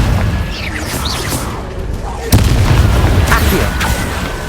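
A Confringo blasting spell bursts in Hogwarts Legacy, a heavy booming explosion striking mid-clip over a dense layer of game combat noise and rumble, with no talk.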